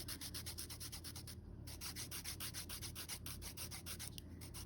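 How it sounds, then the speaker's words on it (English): Art marker tip rubbed back and forth on sandpaper to clear off color, a fast, even scratching rhythm of many short strokes, close and faint, with no talk. "On the sandpaper to get the color off"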